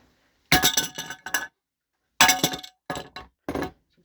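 A hammer whacks a carbon bike frame, giving loud, sharp clattering impacts in two close clusters, with a brief silent gap between them.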